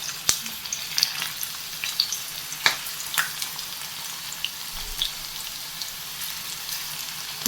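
Tapioca chip pieces fry in hot oil with a steady, low sizzle, broken by occasional sharp pops and crackles as pieces go in, close up and with no talking.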